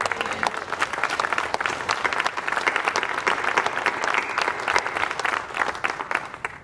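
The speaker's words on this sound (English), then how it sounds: "you can give God a hand clap of praise" Audience applause at a Veterans Day celebration, a steady burst of hand clapping from a crowd that holds throughout and tapers slightly at the end.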